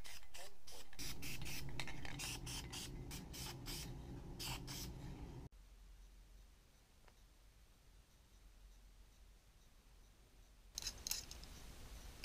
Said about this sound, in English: I gave it a coat of black spray paint to protect it from UV light.